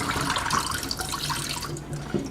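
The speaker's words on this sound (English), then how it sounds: "So I'm pouring down the drain quite a lot of seeds." Water mixed with seeds pours steadily down a sink drain, a continuous close splashing and gurgling rush lasting the whole moment with no voices.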